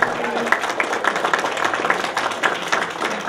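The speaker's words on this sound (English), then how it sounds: "Please give another round of applause for Charlotte." An audience at a talk on the global refugee crisis claps continuously, a dense, moderately loud patter of many hands without pause.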